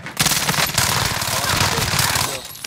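Rapid continuous automatic gunfire in a shooter video game, loud and dense, rattling without a break for a few seconds.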